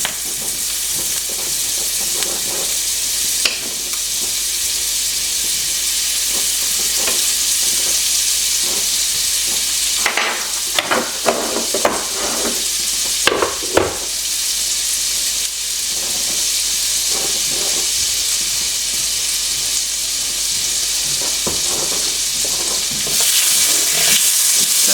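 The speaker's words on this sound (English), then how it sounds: "We're going to melt this butter down" Butter melting in a pan gives a steady, dense sizzle and hiss throughout, with brief louder crackles and clinks of stirring near the middle, fairly close and with no talk.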